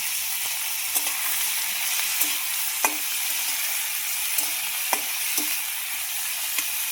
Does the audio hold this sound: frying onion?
yes